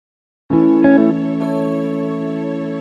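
A string section chord voiced an octave up in an Afrobeat beat made in FL Studio 20, entering with a firm attack, a slight swell, then sustaining steadily and evenly with no other sounds.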